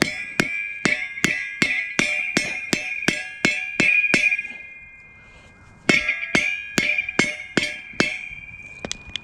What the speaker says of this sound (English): Take our mallet and we'll just kind of hammer this into our wood splitter.